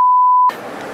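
Censor bleep over speech, a loud steady pure tone lasting about half a second that cuts off abruptly into a noisy, muffled background.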